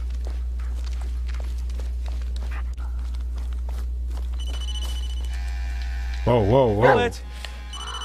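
A telephone rings briefly near the end of a moment in the Blair Witch video game, a short warbling electronic trill that comes in clearly over a steady low hum, after someone speaks.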